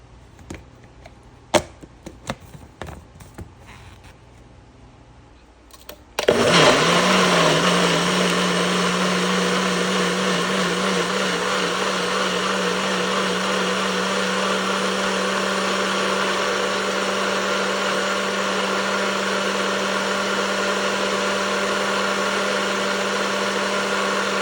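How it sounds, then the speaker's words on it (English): A blender blends Mexican-style vegan vegetable soup, starting abruptly after a few faint kitchen clicks and knocks, then running as a loud, steady motor whir with a constant hum that continues without a break to the end. "And then you're gonna blend it."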